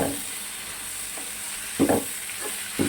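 Fresh mint leaves frying in a pan with tomato and onion, a soft continuous sizzle with a few brief scraping stirs of a spoon near the end, no voices.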